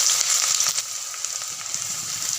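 Onions sizzling steadily in hot oil with dried red chillies in a pan, a constant bright crackle with small pops, close and alone with no voices.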